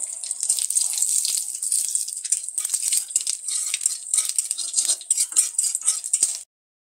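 Black cumin seeds temper in hot oil in a wok for a Bengali fish curry, a close, lively sizzle and crackle with scattered pops that runs steadily and then cuts off abruptly near the end.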